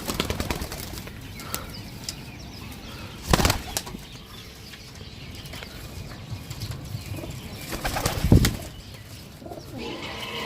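Pigeons at a home loft, with two sharp bursts of wing flapping about five seconds apart over soft cooing and quiet background rustle.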